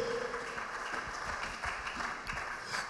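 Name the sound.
congregation applauding in church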